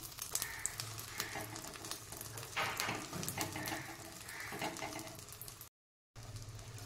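A cheese omelette with oregano cooking in a pan, giving a steady soft sizzle and crackle with small scraping touches, briefly cutting out near the end before resuming.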